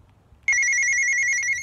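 A phone starts ringing after a short quiet moment, a bright warbling electronic ring tone, steady and fairly loud.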